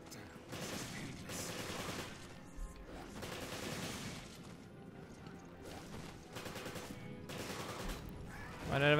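Gunfire in Resident Evil Revelations, bursts of rapid shots in repeated volleys separated by short lulls, fairly quiet and mixed with game clatter.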